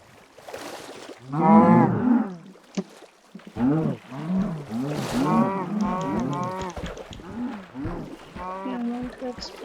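Cows in the Minecraft video game moo repeatedly, several loud, close calls spread through the stretch, with a few short gaps between them.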